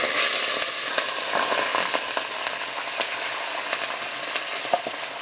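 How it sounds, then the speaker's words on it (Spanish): Beef steak sizzling in hot oil in a pan, a dense, crackling fry with bright popping spatters held steady and close throughout, no speech over it. "El aceite ya está caliente y aquí le voy a ir poniendo el bistec."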